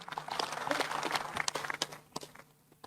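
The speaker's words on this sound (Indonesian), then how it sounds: "tepuk tangan." Scattered, thin applause from an audience at a regional coordination meeting, uneven claps fading over a few seconds.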